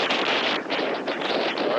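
Light but continuous wind at a wingfoil spot, buffeting the microphone as a steady, fairly loud rush of broadband noise with small gusty fluctuations and no voices.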